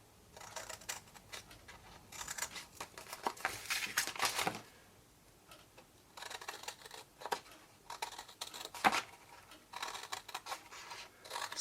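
Scissors snip through scored cardstock squares while making a large box for four dinner candles: close, crisp bursts of cutting in uneven runs with short pauses between.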